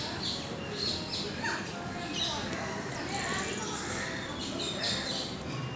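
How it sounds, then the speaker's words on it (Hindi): Several small birds chirp and tweet intermittently against a steady background hiss, fairly faint and a little distant, in the grounds of the National Crafts Museum in Delhi. "आप चिड़िए और जो छोटे छोटे जानवर हैं उनकी आवाज़, पक्षी हैं उनकी आवाज़ बहुत आराम से सुन सकते हो।"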